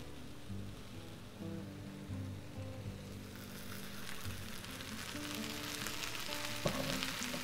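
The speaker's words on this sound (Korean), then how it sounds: "두 큰술만 넣고 볶아주는데요" Green onions stir-frying in two tablespoons of perilla oil, a soft sizzle that swells into a brighter, louder crackle partway through, with a few faint tonal hums underneath.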